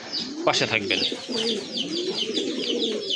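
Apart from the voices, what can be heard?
Rajgolla pigeons cooing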